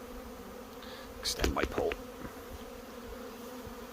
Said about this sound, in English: it's quite a mass amount of bees coming in here